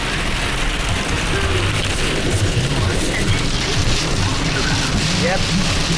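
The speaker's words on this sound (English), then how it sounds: "Pretty rainy and a lot of hail." Heavy rain mixed with hail pours down in a dense, constant roar and patter close around, with a voice talking over it now and then.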